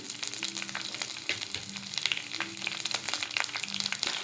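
Curry leaves, shallots and green chillies fry in hot oil with a dense, continuous crackling sizzle, steady and close, with small spattering pops throughout.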